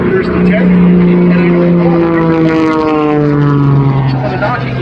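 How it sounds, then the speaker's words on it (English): Propeller airplane at an airshow, a loud, close droning engine with a pulsing propeller roar that shifts in pitch as it passes. "that airplane's coming at you with that big angry propeller just a few feet away"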